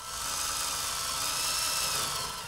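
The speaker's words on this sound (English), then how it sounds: "before you can remove the lower section, you have to drill out the spot welds" A spot weld cutter drilling out spot welds on a '66 Chevy truck during rocker panel replacement, a steady high-pitched grinding whine held for a few seconds, close and loud without talk.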